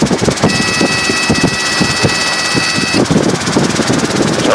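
Robinson R22 helicopter piston engine as the throttle is rolled back on, a loud steady mechanical drone with rapid rhythmic pulsing and a high whine that drops away partway through, heard from inside the cabin.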